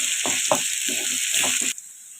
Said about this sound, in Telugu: ఆయిల్ వేసుకొని వేయించుకోవాలి. గోల్డెన్ బ్రౌన్ కలర్లోకి వచ్చే విధంగా వేయించుకోవాలి.